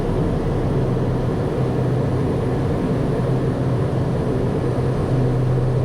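Steady, loud engine and airflow drone inside an airplane on approach to the runway in stormy weather over the Rocky Mountains, a constant roar with no voices over it.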